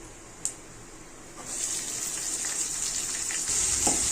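Onion and curry leaves sautéing in hot oil in a pan. A soft click comes first, then a steady hissing sizzle sets in and grows slightly louder, with a faint scrape near the end.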